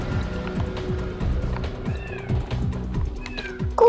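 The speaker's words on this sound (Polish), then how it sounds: "Mój kot już chce wejść." A pet cat meows to be let in, several drawn-out rising and falling cries sounding fairly close over a background of rhythmic rumbling noise, with a louder, sharper meow at the very end.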